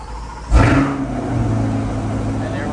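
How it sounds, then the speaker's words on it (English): A C8 Corvette engine fires up with a sudden loud starter burst and a quick rev flare, then settles into a steady, close idle hum. "We're just gonna start the car."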